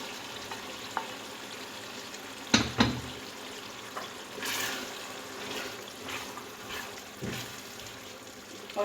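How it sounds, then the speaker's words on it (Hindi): Chopped tomatoes tipped into a pan of frying keema and stirred, with a sharp sizzle and spoon clatter followed by steady frying and occasional scraping, no talking. "अब मैं इसमें टमाटर डालूंगी।"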